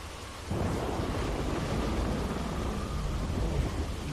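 A heavy downpour with rolling thunder in The Walking Dead video game, a dense, steady roar of rain that surges in loudly after a quieter opening and rumbles on without pause, with no one talking.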